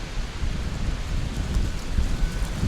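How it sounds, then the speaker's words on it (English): Strong wind blows across an outdoor disc golf course, a loud, gusty rumble and buffeting close to the microphone with rustling over it and no voices. "Holy cow, this wind is about to blow my hat off."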